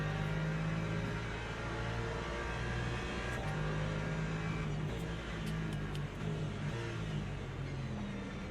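Hypercars roaring off the start of a race in Le Mans Ultimate, rain at Daytona: a dense, continuous engine drone of many cars revving together, steady and loud throughout with layered whining tones.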